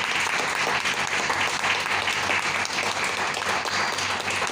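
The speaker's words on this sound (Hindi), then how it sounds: "मैं चाहूंगा कि एक बार उनके सम्मान में एक तालियां हो जाए" Loud, dense audience applause honoring senior leaders at a seminar meeting in Berhampur, continuous clapping from a large crowd that holds steady throughout.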